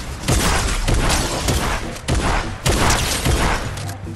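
Rapid shotgun fire in a first-person shooter video game, loud repeated blasts in several bursts with short gaps, no talking.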